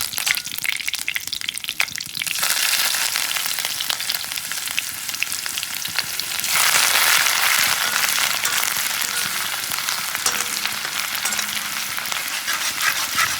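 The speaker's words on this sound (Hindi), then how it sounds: "गरम तेल में डालेगा तेज़पत्ता, इसको फ्राई करेगा। फिर उसके बाद डालेगा बन धनिया पत्ता डालेगा, जो हमने पेस्ट बनाया है।" Bay leaves and then coriander paste drop into hot oil, setting off a loud, dense sizzle that surges when the paste goes in and keeps crackling steadily with stirring.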